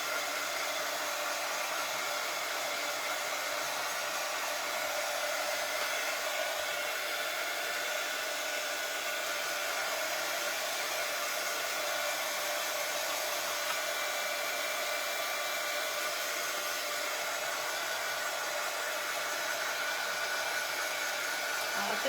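A hair dryer runs continuously at close range, a steady loud whooshing hum that holds evenly for the whole stretch with no breaks.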